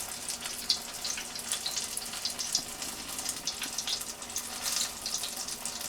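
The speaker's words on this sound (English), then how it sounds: "But you know you're cooking it in quite a bit of oil." Onion rings deep fry in plenty of hot oil, a busy bubbling crackle with scattered bright pops, steady and close with no talk.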